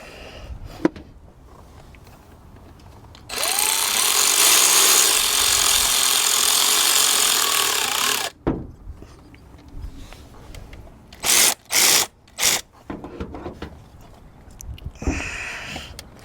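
A power tool whirs loudly for about five seconds while tightening a clamp bolt on a Toyota Highlander engine during a spark plug and coil job, followed by several short bursts and clunks of handling.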